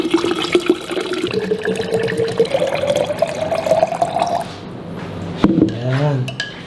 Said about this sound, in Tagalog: Now, idagdagan pa natin ng tubig.